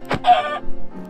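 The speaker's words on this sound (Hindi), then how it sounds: "अच्छा ये मुर्गा है।" Chicken clucking in the video game Minecraft: a few short close clucks in quick succession, loud and clear with no talk over them.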